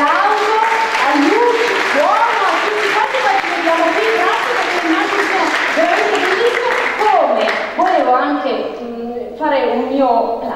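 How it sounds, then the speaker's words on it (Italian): Sustained audience applause at an Italian 2017 contest ceremony, with a voice speaking over the clapping for most of its length before the clapping thins toward the end. "un grande applauso a lui"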